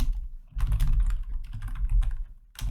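Rapid clattering keystrokes on a computer keyboard while code is typed, a dense, busy run of close, fairly loud clicks with brief pauses between bursts and no voices.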